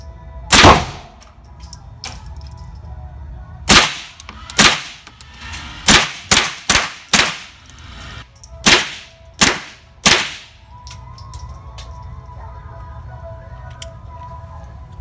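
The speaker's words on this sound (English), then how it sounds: "Kylie shooting now, the semi-automatic 22." Sharp cracks from a semi-automatic .22 rifle fired at a target on a riflery range, about a dozen shots spaced irregularly with a few quick pairs, loud and close with brief decays in an otherwise quiet setting.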